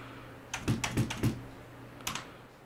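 Quiet computer keyboard typing while a streaming rig is set up: a few soft, spaced keystrokes in a short cluster, then a pause and one or two more clicks.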